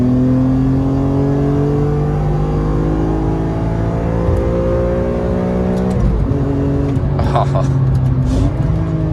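Chevrolet Corvette C7 ZR1 engine rising and falling through revs with rev-matched downshift blips, a loud steady drone from inside the car, with a brief exclamation near the end.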